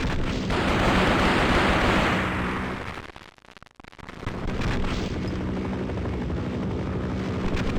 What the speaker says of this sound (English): it actually spawns in a helicopter that you have to avoid in order to get to the end of the map